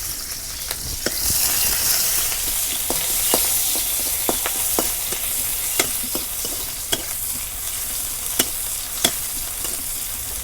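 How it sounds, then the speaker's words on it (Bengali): Chopped onions fry in hot oil, a steady loud sizzle with a scatter of sharp pops and stirring clicks. "তেল গরম হচ্ছে এখন পেঁয়াজ কুচি দিয়ে দিই"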